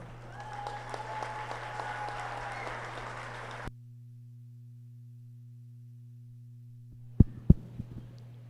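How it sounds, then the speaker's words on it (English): At a market goat show at the Colorado State Fair, an audience gives brief, faint applause for the champion market goat winner under a steady low hum, then cuts off, followed by a few sharp knocks. "Let's give Dylan a big round of applause."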